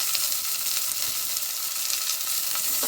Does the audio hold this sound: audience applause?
no